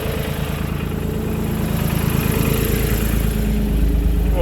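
A Valmet tractor runs with its PTO engaged, giving a steady, loud, close diesel drone with a continuous low rumble and rhythmic mechanical chatter, no voices.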